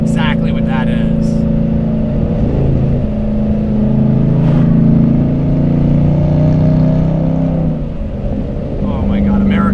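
A Dodge Challenger Redeye's loud exhaust roars through hard acceleration runs, a sustained deep engine drone that climbs and holds, close and dominant throughout, with excited voices talking over it.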